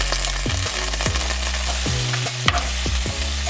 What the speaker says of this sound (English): it's time to make some candied bacon. Maple, brown sugar, and we're kicking it up with some sriracha.